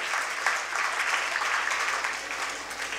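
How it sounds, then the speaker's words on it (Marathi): An audience at an educational workshop applauds steadily in a welcome for the organizers and office-bearers of an institution, a dense wash of clapping that holds for about three seconds with no speech over it. "आपण टाळ्या वाजवून एकदा जोरदार स्वागत करा"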